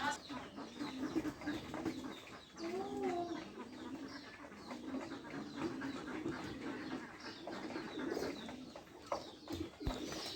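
Pigeons being fed on a village morning after rain, cooing in low repeated throaty phrases close by, with hens clucking among them and light scattered rustling throughout.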